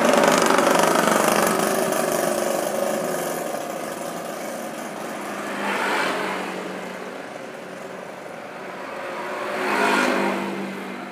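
A Yamaha Jupiter Z motorcycle engine with a sputtering fault when revved idles roughly, then swells in two throttle blips, each rising and falling back to an uneven idle.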